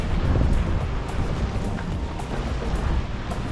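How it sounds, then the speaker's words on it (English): Strong wind buffets the microphone on Elafonisi Beach in Crete, a constant loud rumbling roar with gusty swells and no voices. "It's been windy all day"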